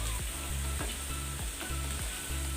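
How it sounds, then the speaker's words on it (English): Potato pieces fry on high flame in a pan, giving a loud, continuous sizzle with a regular rhythm of stirring strokes scraping beneath it; no voices. "So you have to fry it more. Put it on high flame and leave."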